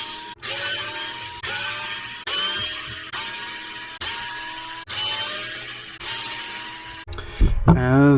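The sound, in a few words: removing screws from an RC drift car chassis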